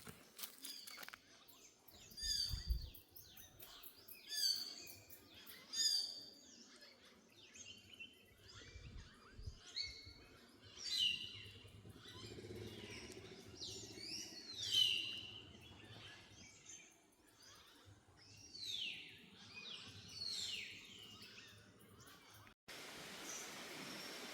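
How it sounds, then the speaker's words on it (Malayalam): Various birds call in the forest along the Gavi to Moozhiyar route in Kerala. Repeated high chirps and short calls rise and fall at a moderate distance over a soft background hiss, fairly faint overall. "പല രീതിയിലുള്ള കിളികളുടെ സൗണ്ട്"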